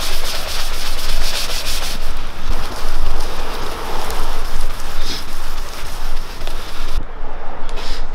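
A continuous rubbing, sanding-like hiss from polishing a repaired dent in a car panel with a cheap tool, loud and close, holding steady for several seconds before easing off at the end.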